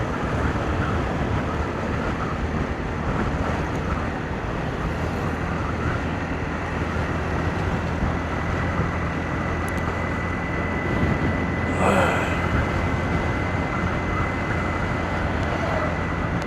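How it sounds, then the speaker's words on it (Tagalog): Strong wind ahead of an approaching typhoon in the Philippines, a loud, steady roar of gusting air and wind buffeting the microphone that holds for the whole stretch, with no voices. "Kaya malakas ang hangin ngayon guys, kasi may parating tayong bagyo."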